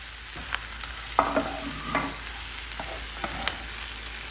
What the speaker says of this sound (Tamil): கருவேப்பிலை போட்டுக்குவோம். வேக வச்ச உருளைக்கிழங்க போட்டுருவோம்.